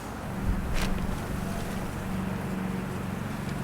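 Wind gusts steadily outdoors while a Ford Mustang GT500 spoiler and decklid are worked on, buffeting the microphone with a continuous broadband rush and a brief stronger gust early on.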